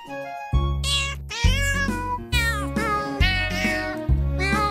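A chorus of cats meowing in a musical, tune-like sequence, the loud, close meows rising and falling in rhythmic phrases over a steady low backing.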